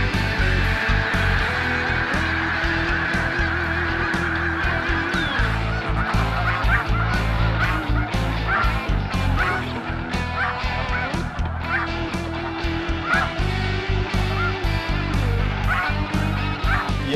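Snow geese honk in a field, a dense, overlapping clamor of many birds calling at once, loud and continuous throughout, with no talking.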